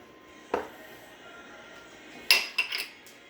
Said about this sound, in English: Put in your onion in there.